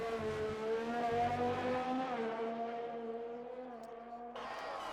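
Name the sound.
race car engine in a racing video game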